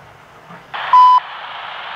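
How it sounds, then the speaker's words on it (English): A CSX railroad equipment defect detector gives a single sharp electronic beep over a radio scanner, loud and brief, with a faint hiss of radio noise before and after. "CSX equipment defect detector milepost point four"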